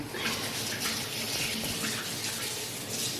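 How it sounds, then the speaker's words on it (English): Steady running tap water pours under hands being washed, a continuous broad splash with no talk, held at an even level throughout. "Oh, I gotta wash my hands."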